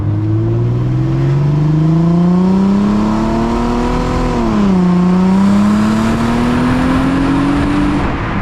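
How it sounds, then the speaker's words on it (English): A loud Mercedes SLK320 3.2 litre V6 engine note climbs steadily in pitch, dips briefly, then rises again, a smooth resonant exhaust drone with no talking. "The exhaust note out the back is spectacular too."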